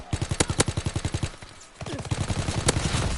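Automatic gunfire in the World War II shooter game Call of Duty WWII comes as rapid, evenly spaced bursts with a few louder cracks, pausing briefly before another burst.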